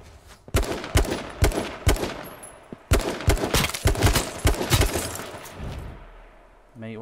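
Gunfire from a gun in the video game H1Z1 rings out as a rapid series of loud, sharp shots in bursts, then fades into quieter background.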